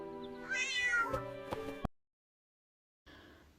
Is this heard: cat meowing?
yes